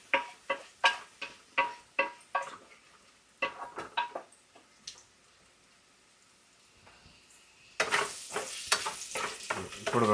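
Tomato, green chilli and onion pieces frying in a pan, with a string of sharp stirring strokes and a sizzle at first, a quiet lull, then a louder, steady hiss of frying with more spoon scrapes near the end.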